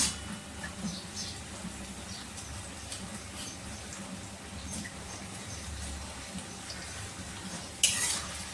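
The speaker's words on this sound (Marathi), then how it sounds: "आता आपण थोडा वेट करूया कांदा फ्राय होईपर्यंत" Chopped onion frying in a pan for egg biryani, a steady low crackling sizzle running throughout, close and moderately loud, with a brief louder clatter near the end.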